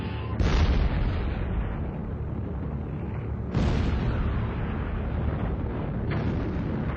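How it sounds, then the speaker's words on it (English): Heavy gunfire from an old German battleship's 11-inch guns bombarding harbour fortifications at Danzig, Poland, at dawn in September 1939: two loud booming blasts a few seconds apart with a rumbling roar between them and a third onset near the end. "An old German battleship opened up its 11-inch guns on fortifications in the Polish harbour of Danzig"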